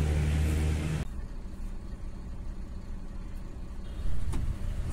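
A vehicle on the Mangalore-to-Kolkata road trip pulls away, a loud engine burst dropping to a steady rolling drone, then swelling again near the end with a brief thump.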